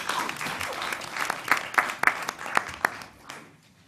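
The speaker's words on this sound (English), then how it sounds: "Another round of applause for them." Audience applause at a public station-area advisory group meeting: a brief burst of clapping that thins to a few scattered, sharper claps and then fades out.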